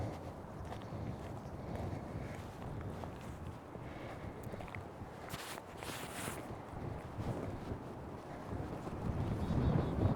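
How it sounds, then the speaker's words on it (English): Wind buffets the microphone outdoors on an icy winter road in Ennis, Montana, producing a continuous rough roar that swells and grows louder toward the end, with no voices. "Oh, sorry about that wind."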